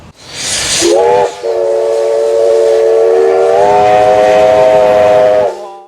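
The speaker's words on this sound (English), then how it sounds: "We have got this amazing opportunity to travel with the steam engine." A loud steam whistle on a steam locomotive pulling the Q Train dining train in Victoria, Australia, blasts with a sharp rising onset, holds a steady chord for several seconds, briefly cuts out and resumes, over a hissing rumble of the train.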